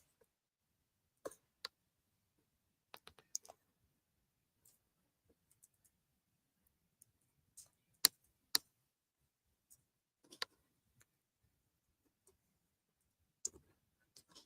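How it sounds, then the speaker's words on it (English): Someone types on a computer keyboard in a quiet room, the faint keystrokes coming in sparse, irregular clicks and short clusters with long silent gaps between them, and no one speaking. "I'm up here just typing away."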